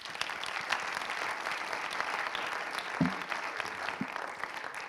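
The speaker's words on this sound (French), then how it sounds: "On les applaudit bien fort." Audience applause at a regional conference on ecological transformation in Île-de-France, a dense, even patter of many hands clapping throughout, with a couple of louder close claps standing out.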